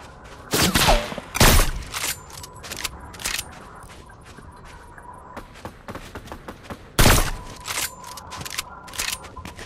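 Gunfire in a Fortnite match cracks in scattered bursts and single shots, some loud and close, others sharp and distant, spread irregularly over a faint background hum.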